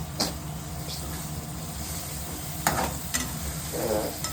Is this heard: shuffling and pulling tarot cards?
no